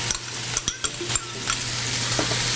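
Celery, onions and carrots hit a hot pan while veal chop marsala cooks, giving a steady close sizzle with a few sharp stirring clicks and scrapes in the first second and a half.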